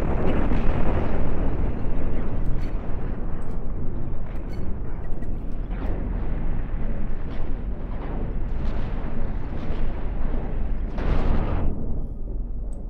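Spaceship guns fire in concentrated volleys during a battle in the Cosmoteer game, producing a sustained roar of booming shots and explosions with sharper bursts breaking through, loud and without pause.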